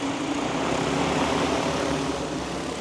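A DJI FlyCart 30 delivery drone flies steadily overhead, its propellers producing a loud, continuous rotor hum and broadband whir with no pauses.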